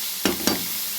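Drumstick pieces frying in a pan, a soft steady sizzle with two brief louder stirring scrapes close by.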